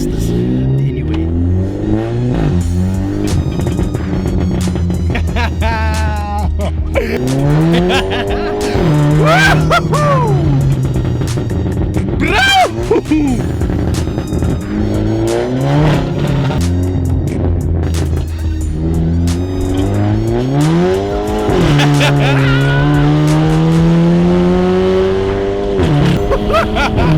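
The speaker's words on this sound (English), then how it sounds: "We need to let the viewers hear a bit of those pops and bangs" A VW Polo GTI 6C with a straight-pipe exhaust revs hard and loud, its pitch sweeping up and down through repeated throttle blips, with crackling pops and bangs scattered between revs, close and dominant throughout.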